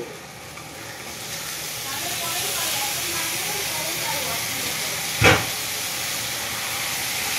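Young jackfruit dropped into hot spiced oil in a home kitchen pan sizzles and hisses steadily throughout, with one brief sharp clatter near the end.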